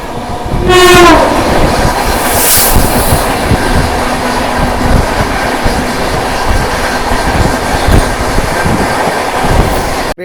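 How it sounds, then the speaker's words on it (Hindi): Duronto Express sleeper-class train on the Howrah to Delhi run, moving slowly: a steady loud rumble of carriages rolls throughout, with a horn blast near the start and faint wheel clatter underneath. "इसलिए ट्रेन स्लो चल रही है अभी"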